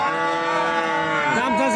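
A four-toothed dairy cow at a cattle market lets out a long, loud, close moo that bends in pitch toward the end.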